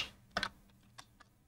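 Quiet, sparse typing on a computer keyboard during Archicad modelling work: a quick double keystroke followed by two single taps spaced apart, close and faint, with no talk.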